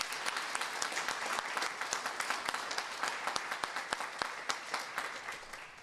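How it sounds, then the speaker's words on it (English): Audience applause at a charity donation event for a mammography fund, a fairly soft, steady patter of many hands with distinct individual claps standing out near the mic, continuing evenly for several seconds. "Let's give them all a round of applause."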